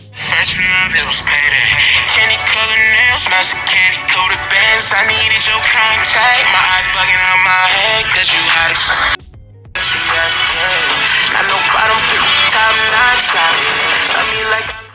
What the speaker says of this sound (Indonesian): dia speakernya sudah stereo di bagian atas dan bagian bawahnya.